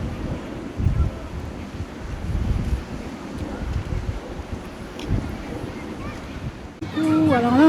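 Wind gusts and surf roll at a beach at night: a continuous rumbling wash of waves with buffeting wind noise on the microphone, ending in a brief higher tonal sound.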